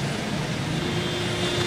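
Heavy road traffic on Camyas Road in Quezon City after a downpour, a dense continuous roar of engines and rushing tires close by, steady and loud with no voices.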